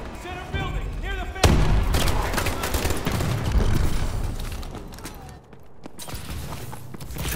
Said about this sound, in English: Friendly missile strikes incoming.